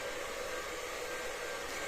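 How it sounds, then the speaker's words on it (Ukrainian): A hair dryer runs steadily and close by in a home, a continuous loud airy whoosh with no breaks or voices. "Мама феном сушиться. Трішки шумить."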